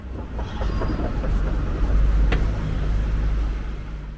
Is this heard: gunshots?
no